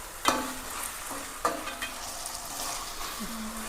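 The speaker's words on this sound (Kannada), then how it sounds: "ನೀಟಾಗಿ ಫ್ರೈ ಆಗ್ತಾ ಇದೆ." Garlic fries in a pan for a mushroom gravy, giving a steady, moderate sizzle broken by a few sharp clicks of a spoon stirring against the pan.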